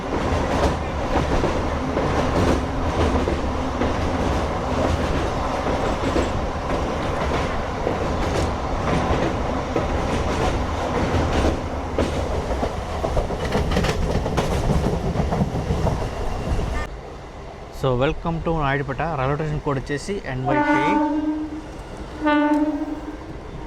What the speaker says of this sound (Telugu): సో మన ట్రైన్ 2 నిమిషాలు లేట్గా నాయుడుపేటకి అయితే రీచ్ అయింది